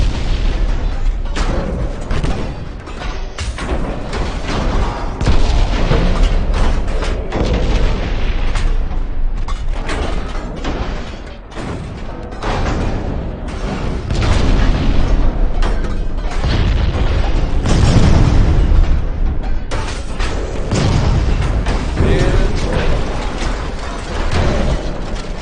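Naval guns firing salvos and torpedoes striking a ship in a warship video game, a loud, continuous barrage of heavy booms and rumbling blasts with no talking.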